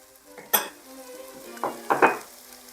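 Pink rice noodles stir-fried with seasoning in a pan, a quiet sizzle broken by a few sharp scrapes and clanks of the spatula, one loud stroke early and a cluster near the end, with nobody talking.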